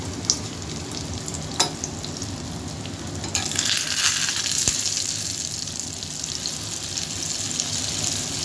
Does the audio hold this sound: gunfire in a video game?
no